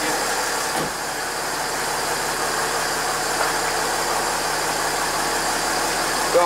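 Cold Mercedes ML 320 engine idling after starting, a steady close rumble with a faint knock, one short thump near the start, no talk.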